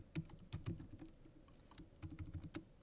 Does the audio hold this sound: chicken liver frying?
no